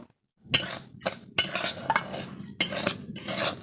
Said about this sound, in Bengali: সুজিটাকে আমি হালকা আঁচে অনবরত এভাবে নেড়ে লাল করে নিয়েছি